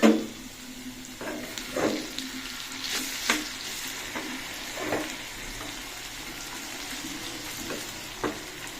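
Potatoes frying in oil in a wok, a steady soft sizzle running throughout with occasional louder scraping stirs and faint water-like splashes, moderately close and without talk.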